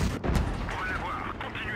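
Cannon fire from a Renault R35 tank in World of Tanks Blitz, a sharp boom near the start followed by engine and game rumble, with a voice talking over it.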